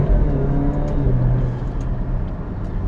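An Italian SUV with a 280 hp four-cylinder engine accelerates hard in sport mode with manual shifting, a loud, steady engine drone rising in pitch close to the cabin, with no talk over it.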